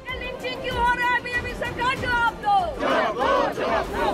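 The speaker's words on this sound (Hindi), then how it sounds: "महात्मा गांधी की प्रतिमा के सामने इकट्ठा हुए टीएमसी सांसदों ने केंद्र सरकार के विरोध में नारेबाजी की" A crowd of TMC MPs gathered before a Mahatma Gandhi statue shouts protest slogans against the central government, loud, rhythmic massed chanting from nearby that rises into a fuller roar toward the end.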